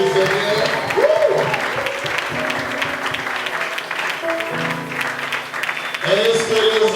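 A church congregation applauds in a loud, continuous patter of clapping while a voice talks over it and sung or spoken tones rise and fall across the clip.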